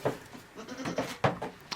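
A pregnant goat in labour on a farm lets out a series of short, close bleats, several calls spaced irregularly across the moment.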